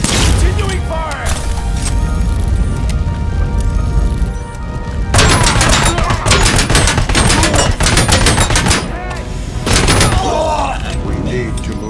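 Gunfire in the RoboCop: Rogue City video game: dense, loud bursts of automatic fire and heavy shots with booms, in clusters with short gaps, voices shouting underneath.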